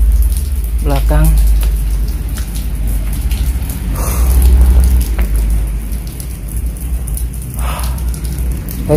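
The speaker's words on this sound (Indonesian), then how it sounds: "kita hujan-hujanan, teman saya hujan-hujanan." Rain falls steadily outdoors at an abandoned vehicle tax office, a dense hiss spattering on surfaces and grass, with heavy handling rustle and bumps close by and brief bits of voice under the downpour.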